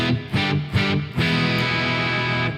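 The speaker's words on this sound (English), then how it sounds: "So my amp sounds like this." Electric guitar played straight into an amplifier with no pedal engaged, a few chopped chords followed by a sustained ringing chord, loud and close with no talking.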